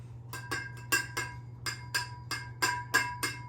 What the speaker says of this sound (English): I will tap it like this over the trash can, and that just gets off any loose glitter